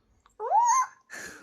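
A person's voice imitates a monkey's cry with one short rising whoop, then a breathy follow-up sound, close and clear against a quiet indoor background.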